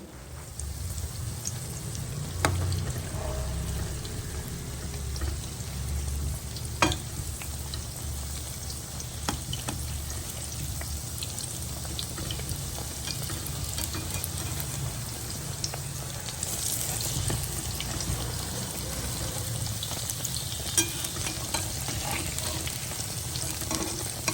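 Flipped snacks frying in oil in a pan, a steady dense sizzle with occasional faint clicks and scrapes, continuous and fairly close with no talking.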